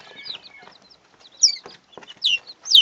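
Small bantam chickens cluck and chirp nearby in short, bright bursts, with a few quiet pauses between calls.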